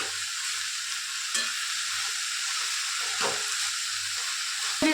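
Onion leaves sizzle steadily in a hot pan with roasted chillies, with a continuous frying hiss broken by a few scraping stirs of a spoon.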